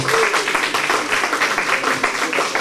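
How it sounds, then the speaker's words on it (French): Audience applause at an Afro-themed evening event, a dense continuous patter of many hands clapping close by, steady and loud for the whole stretch. "Donc Marie-Antoinette Montlouis, on l'applaudit encore s'il vous plaît."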